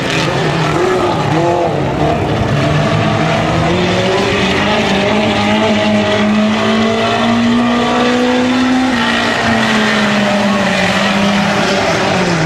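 A race car on the final lap at the 250 Speedway, engine droning loudly and steadily with rising and falling pitch as it powers through the turns, heard alone without talk.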